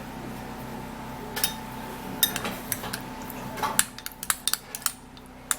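A spoon scoops grated potato from a dish, giving a string of light scraping clinks against the container that grow more frequent toward the end, quiet and close, over a low hum.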